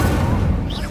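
A fire spell is cast in Hogwarts Legacy on PS5: a brief, dense whoosh and rumble with a crashing burst, loud and close, carrying through the whole moment.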